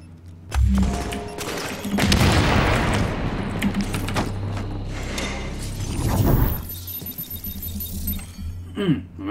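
Gunfire and explosive booms from the PC video game The Division, dense bursts and thuds running loud through most of the stretch with a few mechanical clicks, no talk over it.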